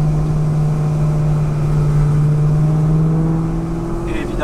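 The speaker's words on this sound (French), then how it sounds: "ce qui fait le bruit de la voiture, c'est que le silencieux à l'arrière, il est vidé" A coupe's exhaust with its rear silencer emptied hums loudly and steadily, a droning engine tone held at close range with a slight rise in pitch near the end.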